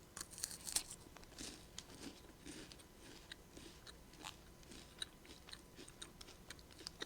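Crisp bites and chewing of a flaky chocolate-flavored pie crust, a quiet, close series of irregular crackles and crunches with no talking.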